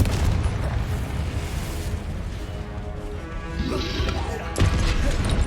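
Repeated spell-blast explosions from combat in the video game Hogwarts Legacy, with crashes and booms over a dense, continuous game soundscape and a sharp loud impact near the end.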